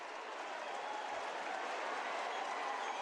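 A broad, even wash of crowd noise and scattered applause rolls through a stadium at an AFL match between the Brisbane Lions and Western Bulldogs, a sustained roar reacting to a goal, heard from a distance at moderate volume.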